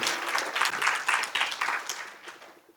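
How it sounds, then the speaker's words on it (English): An audience at a semiconductor and national security forum in Taiwan breaks into applause, a dense wash of clapping that swells and then gradually thins out over a few seconds. "Let us give him another applause."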